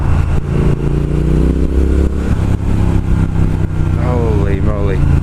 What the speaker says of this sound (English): I'm in fourth gear at the moment and it pulls